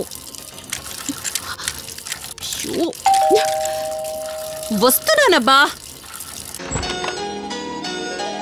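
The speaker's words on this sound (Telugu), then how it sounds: "ఆ ట్యాప్ కారుతూనే ఉంది" Water drips from a leaking tap in ringing, pitch-bending plinks over a steady hum, with a sustained tone and a chime-like sound; a voice speaks briefly.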